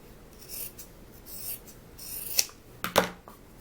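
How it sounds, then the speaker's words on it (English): Scissors trimming a fabric seam on a crossbody bag strap, a few soft, quick snips with light rustling, quiet and close. "You will trim your seam."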